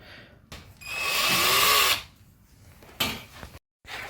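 A power drill backs out the screws holding a wall-mounted fireplace bracket, giving one steady whirring run of about a second, close and fairly quiet, with a few brief clicks and handling noises around it.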